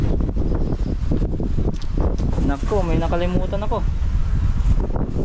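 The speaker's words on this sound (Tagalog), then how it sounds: "Malakas na yung hangin, no?" Strong wind on a farm ahead of an approaching typhoon buffets the microphone with a continuous rough roar, while a person talks over it.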